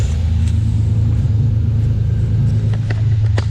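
A Nissan 300ZX sits idling close by, a steady low engine rumble with a faint ticking and a few light clicks near the end, and no voices over it.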